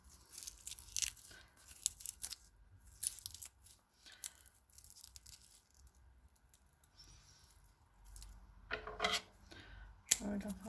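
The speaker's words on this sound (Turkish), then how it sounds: "fazlalıklarını makas yardımıyla alıyorum." Quiet snips and crisp cutting sounds of scissors trimming Tradescantia zebrina stems come in scattered bursts, with rustling of stems between them and a few soft bumps.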